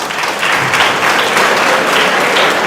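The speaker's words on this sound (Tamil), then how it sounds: "கைத்தட்டுங்க" An audience at a talk on accident prevention breaks into loud, dense clapping that holds steady for about three seconds, close and filling the room, with no voices standing out.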